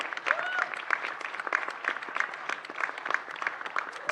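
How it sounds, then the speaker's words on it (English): A studio audience claps for a guest walking on stage, a dense sustained round of applause from a crowd with a few faint whoops. "Can we have her on stage while we give her a huge round of applause?"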